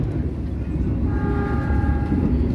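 Passenger train on the Jakarta to Semarang route running through Bekasi station without slowing, a steady loud rumble of wheels and carriage noise with a sustained horn tone sounding partway through.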